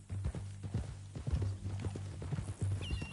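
Horse hooves clip-clop steadily at a walking rhythm in the video game Red Dead Redemption 2, close and clear, with low rumbling ambience throughout.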